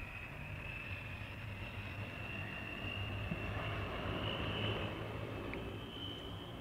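Steady broadband jet roar with a high whining tone from an airplane near Nantes-Château-Bougon airport, a continuous loud drone that swells slightly midway and holds throughout with no voices.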